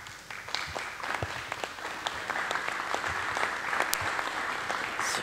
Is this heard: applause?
yes